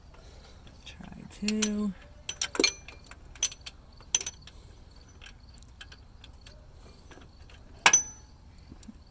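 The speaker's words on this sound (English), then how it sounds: "If I can get a ratchet on there to get it snugged." A ratchet snugs a nut while an alternator is refitted on a 2000 Honda Accord 2.3 L. Sparse metallic clicks and clinks sound close up amid quiet shop background, with a short spoken phrase and a brief squeak.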